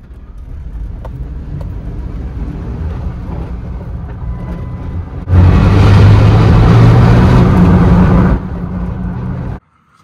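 A Jeep Wrangler JKU drives around the block, its road and engine noise rumbling steadily, growing louder for a few seconds in the middle, then easing back before cutting off abruptly.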